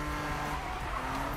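A BMW drifting in the Need for Speed video game: a loud, close tire squeal rides over the revving engine in one continuous skid.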